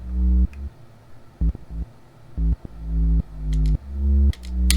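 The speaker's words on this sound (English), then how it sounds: "And the sub sounds like this." An electro sub bass synth patch plays a deep, booming rhythmic line of short and sustained notes, with small clicky percussion ticks above it. No voices are heard.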